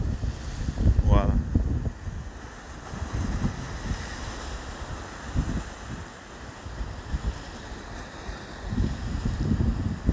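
Wind blowing off Lake Michigan along the shore, a steady broadband rush with gusty swells and a faint wash of water, with a brief burst of nearby voices near the start.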